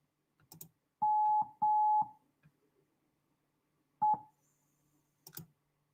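A phone emits a few single-tone beeps while someone calls a caller back, with two longer tones and a short one separated by faint clicks and taps.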